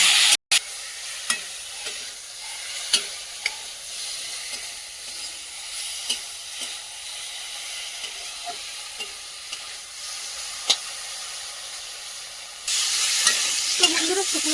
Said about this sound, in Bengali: শুকনো কলাই কিন্তু বেশ খানিকক্ষণ ভেজে নিলাম